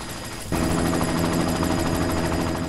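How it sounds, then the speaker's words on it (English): Helicopter in the Deus Ex: Mankind Divided video game, a loud rotor-and-engine roar that kicks in abruptly and holds steady, with a rapid chopping pulse. "You've got to stop that chopper."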